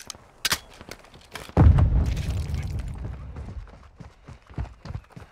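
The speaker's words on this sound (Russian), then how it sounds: "гранату кинул бот" A grenade blast in the shooter Warzone DMZ bursts loud and close, then leaves a long rumbling tail that slowly fades under scattered game noises and footsteps.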